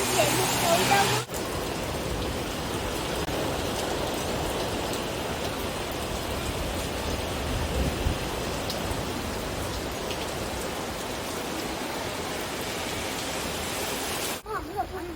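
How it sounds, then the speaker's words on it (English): Steady rain pours outdoors on a city afternoon in Krakow, a dense continuous hiss of drops on surfaces that holds nearly constant for the whole stretch, with brief louder handling bumps at the start and end. "It's raining."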